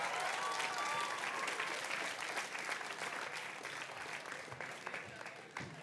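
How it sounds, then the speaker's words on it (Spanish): A TV show studio crowd applauding steadily, a dense wash of clapping that holds loud throughout and tapers slightly toward the end, with some voices mixed in. "¡Un aplauso!"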